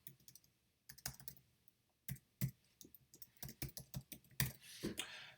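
Typing on a computer keyboard in irregular bursts of sharp key clicks with short pauses between, close and quiet, with no speech.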